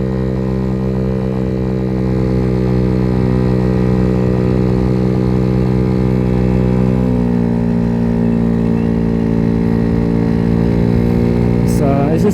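Venom X18 50cc motorcycle cruising, a continuous buzzing small-engine drone with steady harmonic tones that dip slightly in pitch midway, loud and close throughout.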